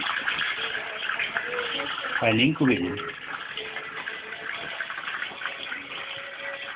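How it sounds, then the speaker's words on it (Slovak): Water gushing from a tap into a bath, a steady rushing flow heard close up while a person talks over it, with a brief louder splash partway through. "Aj vodu natočíme"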